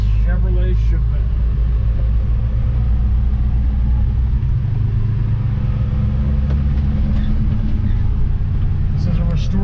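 A restored 1966 Chevrolet Chevelle Malibu driving, its engine a steady low rumble heard from inside the car, with someone talking over it throughout.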